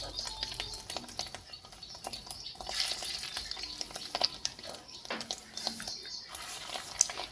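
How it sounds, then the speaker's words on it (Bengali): Fish roe fritters fry in hot oil in a wok, giving a soft, uneven sizzle with light crackles and a few sharper pops, fairly quiet and close. "একে একে বড়া আকারে গরম তেলের মধ্যে ছাড়তে থাকবো।"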